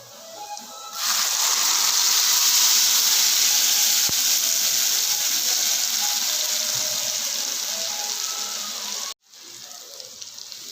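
Tomato puree boiling and sizzling in a pan with garlic for a thick Tamil-style tomato relish, a steady loud broadband hiss that runs for about eight seconds, then cuts off abruptly near the end.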